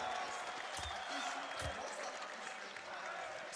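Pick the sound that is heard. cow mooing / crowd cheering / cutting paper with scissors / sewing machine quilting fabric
crowd cheering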